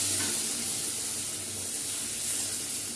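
Water is poured onto frying potatoes and pointed gourd in a pan, producing a steady, close hiss of sizzling and bubbling that continues without pause.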